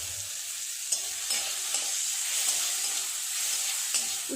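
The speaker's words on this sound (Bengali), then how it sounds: "উচ্ছেগুলো কতটা ভাজা হলো একবার উল্টে দেব" Bitter gourd sizzling steadily in hot oil in a pan, with several scraping stirs of a spatula breaking through the constant frying hiss.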